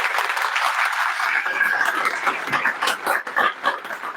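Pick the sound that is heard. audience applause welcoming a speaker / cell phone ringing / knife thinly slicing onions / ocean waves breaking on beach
audience applause welcoming a speaker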